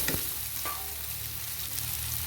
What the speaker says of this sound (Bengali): এবারে ধনের গুঁড়ো দিয়ে দিলাম। এবার নেড়ে নেব।